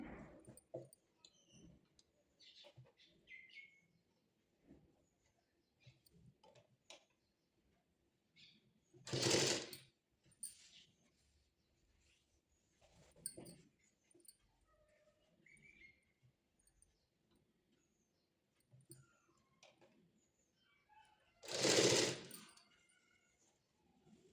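A sewing machine stitches the pleats of a patiala pant in two short, loud bursts of whirring needle action, separated by long near-quiet stretches with faint small handling noises.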